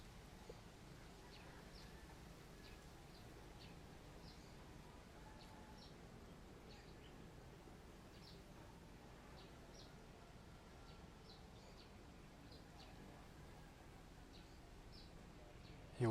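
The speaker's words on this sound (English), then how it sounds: "Birds, roosters," Outdoor ambience with faint, scattered bird and rooster chirps and calls repeating over a steady low background hum, with a soft rustle of leaves throughout.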